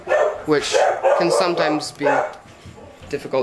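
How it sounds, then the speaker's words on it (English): A dog barks in short bursts close by, overlapping a person talking steadily indoors. "Sorry, that's my dog."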